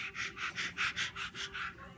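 A toddler imitates a dog's panting with a rapid, steady run of breathy in-and-out puffs, about eight in two seconds, close and fairly soft.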